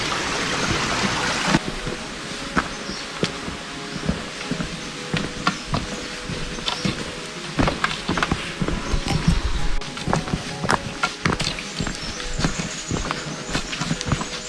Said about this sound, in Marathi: हा एक छोटासा ओढा लागतो तिथल्या पाण्याचा मंजूळ आवाज आपल्याला मंत्रमुग्ध करून ठेवतो